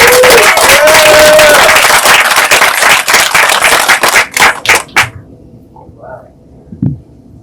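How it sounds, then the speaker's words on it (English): An audience at a Chicana/o and LatinX poetry afternoon applauds poet Cesar Avelar, loud dense clapping with a brief voice that thins into a few last claps and quiet room noise. "How about a round of applause for Cesar Avelar"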